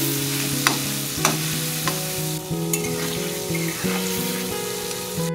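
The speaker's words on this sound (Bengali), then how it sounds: "আলু কড়া ভেজে নেব" Potatoes fry in hot oil in a pan, seasoned with salt and turmeric, giving a steady close sizzle broken by a few sharp scraping stirs, with a soft musical tone underneath and no talking.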